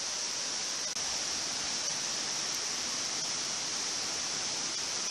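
The waterfall at Cloudland Canyon gives off a steady, dense rushing hiss, constant and fairly loud with no pauses, heard alone without talk.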